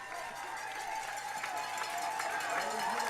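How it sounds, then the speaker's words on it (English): Applause from the Ellwood City home crowd at a high school football game on senior night, a steady wash of clapping and cheering under a play-by-play announcer's voice. "A great round of applause from the Elwood City faithful as the clock's getting close to 0"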